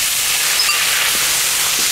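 Ginger and chopped chili sizzle in a hot pan with a steady, bright hiss and a few faint crackles, close and constant.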